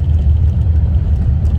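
A car driving slowly around rural village roads, a steady low engine and tyre rumble heard from inside the cabin, constant and fairly loud with no voices.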